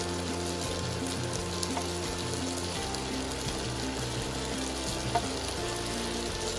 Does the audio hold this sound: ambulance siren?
no